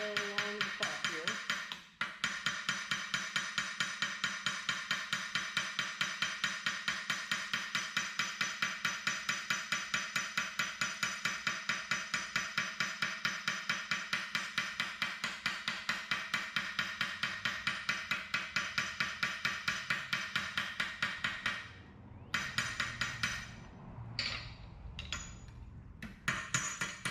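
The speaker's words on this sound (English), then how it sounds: "Got this little hammer with this point on it." A small pointed hammer taps along the top edge of a copper piece in a rapid, steady stream of light metallic ticks for about twenty seconds, close and even, then stops into a few scattered knocks and softer handling sounds.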